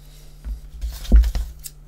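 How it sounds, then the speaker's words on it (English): Long scissors cut through paper for a handmade birthday book and card holder, giving a few crisp snips and slicing strokes close up, with one louder cut in the middle and no talking. "So I can grab my long scissors."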